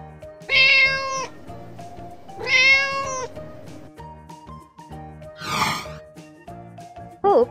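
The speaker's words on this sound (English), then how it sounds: "cat," A cat meows twice in drawn-out, clear calls close by, over light background music, followed by a whoosh and a brief final squeak.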